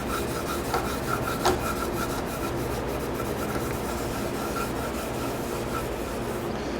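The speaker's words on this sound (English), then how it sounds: "I'll just grab this, just a little Scotch-Brite" A Scotch-Brite pad scrubs a part from a vintage Yamaha XS650 motorcycle in steady, continuous rasping strokes at close range, with a few sharper scrapes early on. No one speaks.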